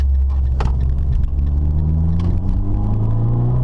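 A 2013 Fiat 500 Abarth's small turbo engine growls up close, its pitch climbing steadily as it revs over a heavy low rumble.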